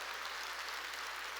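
A church congregation at Sunday worship claps harder, a continuous even roar of many hands heard faint and distant throughout.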